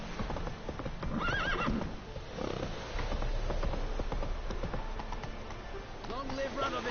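Hooves of the horse Roach clip-clop at a gallop in The Witcher 3 around Novigrad, with repeated whinnies and neighs over a steady rumble of movement, while voices talk throughout.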